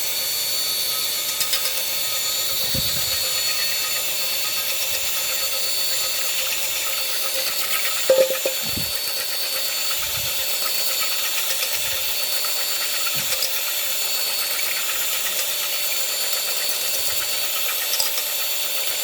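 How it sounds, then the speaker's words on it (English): A power drill fitted with a plastic fork as a whisk runs continuously with a steady high whine, with occasional knocks and clatters against the bowl throughout. "I attach this plastic fork to a power drill. And I'm hoping that's going to work as my whisk."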